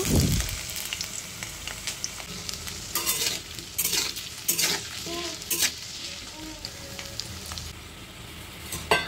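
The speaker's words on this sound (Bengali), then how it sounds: "এরপর আলুগুলো ছেড়ে দিয়েছি ভাজার জন্য।" Potato pieces sizzle steadily in hot mustard oil in a wok, with a dense crackling hiss throughout and occasional scrapes and clinks of a spatula stirring them.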